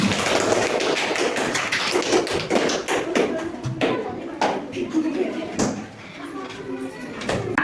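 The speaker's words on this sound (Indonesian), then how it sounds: "Tepuk tangan anak-anak." Children in a classroom clap, a dense burst of many quick, close hand claps that thins toward the end, with faint voices underneath.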